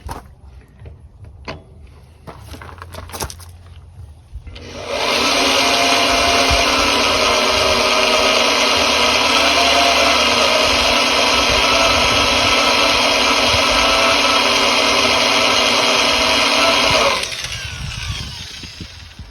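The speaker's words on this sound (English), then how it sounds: "Really, it's drilling pretty easy." A power drill drilling through steel on a cabover truck air tank bracket starts up and runs continuously at a loud, steady whine for about twelve seconds, then stops, with some handling clatter before it.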